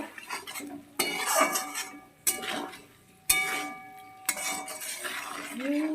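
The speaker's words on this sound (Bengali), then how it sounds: "পরিমাণ মতন লবণ আর দিয়ে দেব একটু হলুদ একটু নাড়িয়ে চাড়িয়ে নেবো" A utensil stirs salt and turmeric into vegetables cooking in a pan, with repeated scraping strokes and sharp metallic clinks against the pan at irregular intervals over a soft background sizzle.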